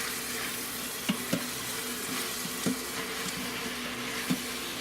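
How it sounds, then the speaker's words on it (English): Ground beef chili with oregano being stirred and broken up as it browns in an Instant Pot, a soft steady sizzle with a few light utensil taps and scrapes scattered through. "let's give that all a good mix"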